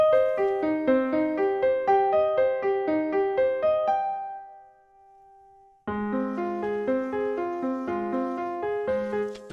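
Notation-software playback of a composed score transition into a third story arc: rapid, evenly pulsed arpeggiated notes, then a held chord fading to near silence, then a louder, fuller arpeggio pattern resuming, with no speech.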